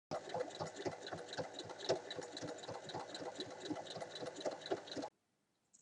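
Steady rapid mechanical chatter of a sewing machine stitching a fabric pencil case near the edge, running continuously for about five seconds before stopping abruptly.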